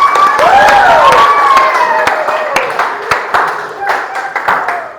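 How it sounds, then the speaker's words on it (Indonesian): Classroom students clap their hands together in a burst of applause, with sharp claps under a loud voice and children's calls at the start, the clapping continuing steadily as the voices fade. "Mari tepuk tangan sekali lagi"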